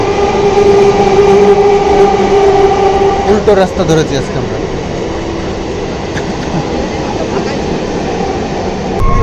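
A local train toward Bongaon runs with a loud, continuous rumble and rattling wheels, a brief screech midway, while a person speaks over the noise.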